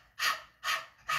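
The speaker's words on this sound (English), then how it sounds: "like panting like a dog" Rhythmic forceful exhalations, panting like a dog with the tongue out during a breathing meditation, three short breathy puffs close up in quick even succession.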